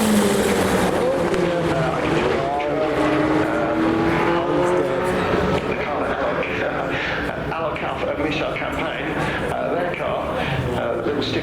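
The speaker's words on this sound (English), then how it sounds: "cars have been leaving, like this MX-5" Race car engines, including a Mazda MX-5, roar loudly nearby, rising and falling in pitch as cars pass one after another amid steady crowd noise.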